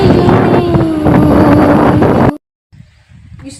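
Cool wind blowing outdoors in Doddasaggere, a loud, continuous roar buffeting the microphone for about two seconds, then cutting off to near silence with faint low rustling.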